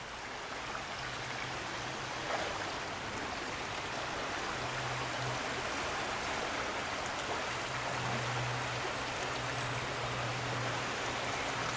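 A swollen, fast-flowing stream rushes over branches and fallen trees in a county park, a steady, broad wash of water noise heard alone at moderate distance throughout.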